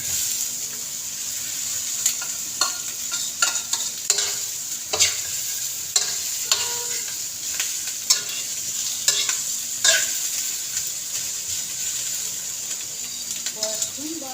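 Fatty pork pieces fry in a pan with little oil for pork humba, a soft steady sizzle broken by repeated sharp scraping and stirring strokes of a utensil against the pan.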